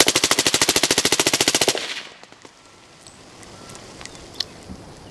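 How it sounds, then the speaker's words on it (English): A suppressed fully automatic AR-15 fires one fast burst of about twenty evenly spaced shots inside a house, loud and close, then cuts to quiet room tone with faint movement. "So now let's say we had a fully automatic, suppressed AR-15 in our house"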